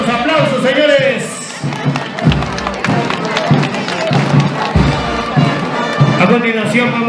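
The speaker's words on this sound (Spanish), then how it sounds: "Vengan las palmas, a ver los aplausos, señores." An audience at a community event in the district of Huaribamba claps and cheers in a loud, continuous wash of applause with shouts and whistles, close and busy throughout.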